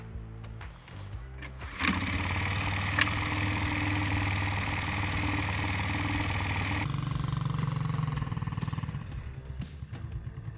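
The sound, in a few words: small cheap ATV engine started with manual starter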